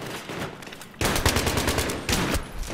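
Shotgun fire in Battlefield 3 comes in two loud bursts of rapid, overlapping blasts. The firing is close and dense, with a brief pause between the bursts.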